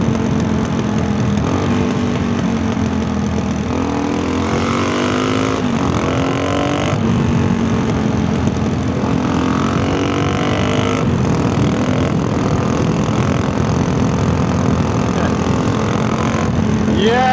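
A lightweight adventure motorcycle accelerates in fourth or fifth gear on backroads, its engine note droning loudly and close and rising steadily through several pulls, with wind noise throughout.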